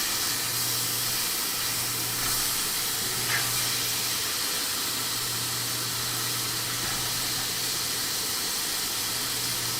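Ground beef browning in a pan, a steady loud hiss of frying that fills the whole clip with no talking over it.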